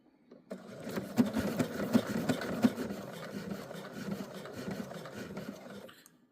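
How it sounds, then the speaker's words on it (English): A sewing machine with a button tool sews a large shanked coat button, a steady rapid needle chatter that runs close and continuous for about five seconds before stopping, with no talking over it. "this is a special button tool on this sewing machine that helps you line up the button perfectly"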